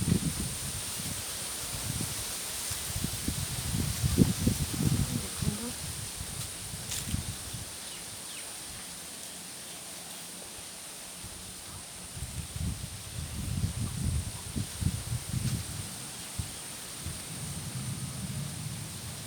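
Rain falls with gusts of wind in a soft, steady hiss, with bursts of low rumbling buffeting that rise and fade over about twenty seconds.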